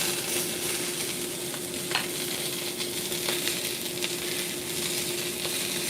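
Steak sizzles in a cast iron pan, a loud, steady frying hiss close by, broken by a few sharp scrapes and taps, with no talking.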